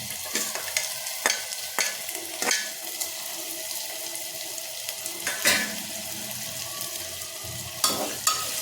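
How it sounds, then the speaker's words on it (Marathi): Garlic and curry leaves sizzle in a pan for soybean khichdi, with a steady crackle punctuated by several sharp clatters of stirring against the pan, close and fairly quiet. "आता लसूण आणि कढीपत्ता टाकायचा."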